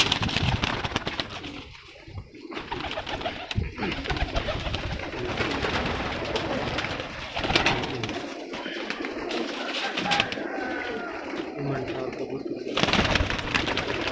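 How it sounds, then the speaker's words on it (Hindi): Flying pigeons coo repeatedly on a rooftop loft, close and continuous over a busy background of other birds, with people talking throughout. "परवाज़ी कबूतर"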